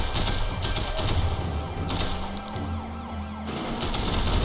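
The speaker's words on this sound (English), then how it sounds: "Wow, explosions." Dense, continuous barrage of video game gunfire and explosions in Sleeping Dogs, with a siren-like wail weaving through, loud and chaotic throughout, with no speech.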